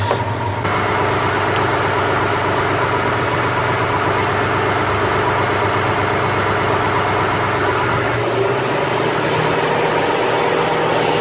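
A car engine idles steadily and loudly after head gasket repair, a continuous low rumble with no talking throughout.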